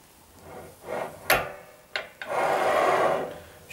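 RUBI TQ manual tile cutter scoring a tile: a few clacks and knocks of the handle and rail, then a sustained gritty scrape as the scoring wheel runs across the tile, close and alone.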